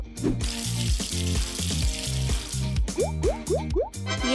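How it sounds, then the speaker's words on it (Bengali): Cartoon water rinse effect in the Pou mobile game, a quick run of bubbly drips and plops ending in a row of rising splashy blips, close and clear without talk. "আর এখন আমরা জল দিয়ে ধুয়ে নেব।"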